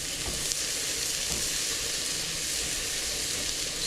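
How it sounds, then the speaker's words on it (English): Garlic sizzles steadily in a hot pan while being stirred, a continuous close frying hiss with faint scraping bumps from the stirring and no talk, during corn chowder cooking. "So now that I got that garlic in here, I'm just gonna stir it around a little bit, give it a little bit of heat."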